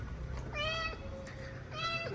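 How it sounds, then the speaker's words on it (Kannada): Female cat meowing twice indoors, two clear drawn-out meows with a pause between them, close and fairly loud over a quiet background. "ಇದು ಆ್ಯಕ್ಚುಲಿ ಫೀಮೇಲ್ ಕ್ಯಾಟ್ ಇದು"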